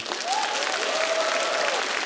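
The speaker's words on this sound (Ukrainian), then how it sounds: "Зал вам аплодує" A studio audience at a televised comedy contest applauds in a steady, dense wash of clapping that holds evenly throughout, with a faint tonal sweep running under it.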